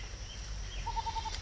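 A desi goat being milked by hand gives a short run of faint, rapid bleats over steady low background rumble, alone without talk.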